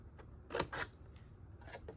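Scissors or a paper trimmer cutting a wedge off card stock for a handmade embellishment book, heard as two quick crisp snips close up, followed by a few faint light clicks in a quiet room.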